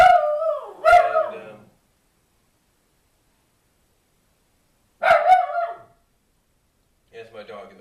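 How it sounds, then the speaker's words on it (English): A pet dog barks and howls in the background in a few short, drawn-out voiced bursts separated by silence, with a brief bit of speech. "it's my dog in the background"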